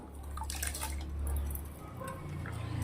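Soaked basmati rice is tipped into milk in a pot for rabdi kheer, giving a few close, soft splashes and drips over a low stovetop rumble.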